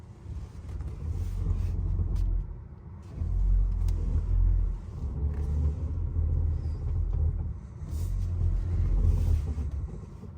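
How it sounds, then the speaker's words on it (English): Tesla Model X standing still with window closed while the yoke is turned, giving a low, steady rubbing rumble from the tires that swells and fades in a few waves, no talk. "I'm stopped and I'm trying to turn my steering wheel. I hear this rubbing."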